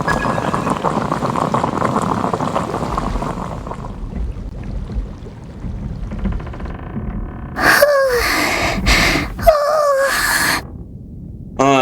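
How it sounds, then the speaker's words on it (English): In Genshin Impact, during a snowy Snezhnaya winter scene, water bubbles and churns steadily for several seconds, then fades to quieter sounds, with no voices present. "I'll boil some water"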